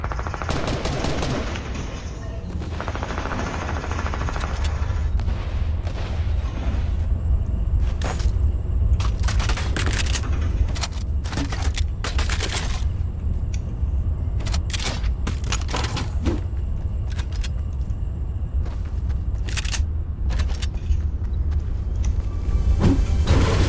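Gunfire in the Fortnite video game during a squads Battle Royale match, rapid bursts of machine gun and single shots over a constant rumbling background, repeated throughout at close range.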